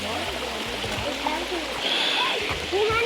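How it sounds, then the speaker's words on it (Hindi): Clear spring water flowing down a mountain stream high in the hills near Abbottabad, a steady broadband rush of water close by, with talking voices over the flow throughout. "ये चश्मे का पानी है ना? जी, चश्मे का साफ पानी।"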